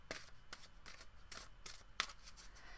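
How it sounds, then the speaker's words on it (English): Crisp, rhythmic flicks of a tarot deck being overhand shuffled by hand, about six soft riffling bursts in a steady pattern, close and quiet with no talking. "I do an overhand shuffle."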